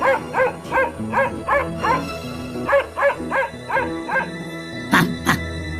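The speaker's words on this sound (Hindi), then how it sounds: "कुत्ता भौंक भौंक कर दोनों की लड़ाई बंद कराने की कोशिश करता है।" A cartoon dog barks in a quick rhythmic series of about a dozen yaps, close and clear, ending with two sharper barks.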